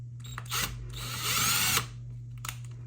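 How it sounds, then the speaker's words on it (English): A power drill whirs in short bursts and then one longer sustained run, close by, drilling a handle hole in a tray, over a steady low hum. "Make sure your drill's going the right way."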